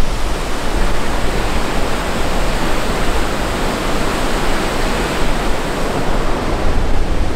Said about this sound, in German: Ein paar Kilometer weiter sind wir auf diesen Wasserfall hier gestoßen oder diese Stromschnelle.